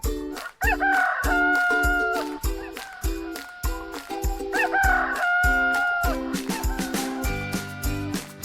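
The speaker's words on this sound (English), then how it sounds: "Rooster." A rooster crows loudly and close, two long cock-a-doodle-doo calls separated by a pause, with some clucking and a farm background between them.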